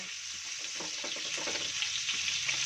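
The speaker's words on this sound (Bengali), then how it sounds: "তো আমি গরম তেলের মধ্যে দিয়ে দিয়েছি চিংড়ি মাছগুলো। এবার চিংড়ি মাছগুলোকে আমি কিন্তু ফ্রাই করে নেব।" Prawns frying in hot oil, a steady, dense hiss and crackle heard close up with no break over a few seconds.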